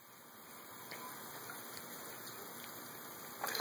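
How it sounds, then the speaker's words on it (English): Someone runs through standing water, making a continuous rushing, splashing wash that thickens slightly and ends with a sharper splash burst. "That was a big splash."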